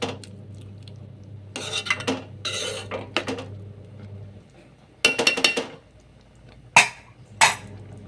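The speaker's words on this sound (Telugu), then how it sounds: "ఇలా కలిపి మూత పెట్టుకొని చక్కగా టమాటా ముక్కలను ఉడకనివ్వండి" Tomato pieces stirred in a metal pot: a few bursts of spoon scraping and clatter against the pot, then two sharp metallic clinks as a lid goes on. Quiet gaps fall between the sounds, and nobody speaks.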